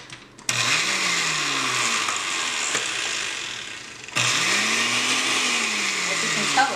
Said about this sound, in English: I don't want to break the blender.